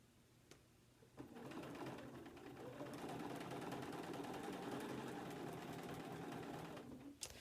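A sewing machine stitches a log cabin quilt block, starting after a soft knock and settling into a fairly quiet, continuous motor hum that runs for about six seconds before stopping.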